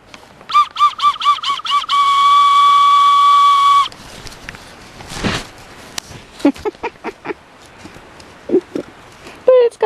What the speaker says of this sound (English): Here's an old whistle of sorts.